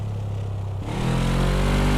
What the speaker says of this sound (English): Every car has had its own sound, which is very impressive.